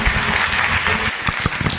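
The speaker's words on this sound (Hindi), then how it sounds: "अभी आप लोग थोड़ा क्लैप करिए और प्रतिमा जी को यहां बुलाइए एक बढ़िया ताली से।" An audience claps steadily to welcome a speaker to the stage at a business talk, a dense continuous patter of applause that holds at a fairly even level throughout.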